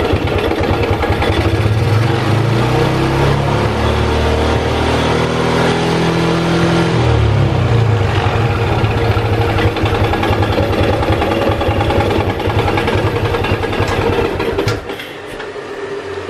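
An engine is revved by pulling the throttle during a battery-charging check, a loud, continuous rising and falling drone close by with a pitch sweep in the first half, running steadily to the end without speech.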